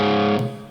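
An electric guitar chord rings through a NUX Solid Studio amp modeller set with plate reverb, a loud sustained distorted tone that cuts off and leaves a short reverb tail fading out.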